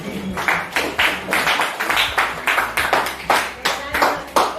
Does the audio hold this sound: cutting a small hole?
no